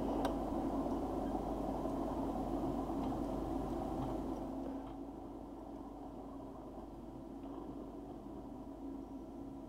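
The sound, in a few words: train passing in video game Behind Enemy Lines 2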